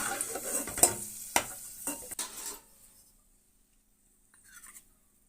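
Raisins frying in a pan for semolina laddu, stirred with several sharp scraping strokes and a sizzle for about two and a half seconds, then near silence with a faint clink at the end.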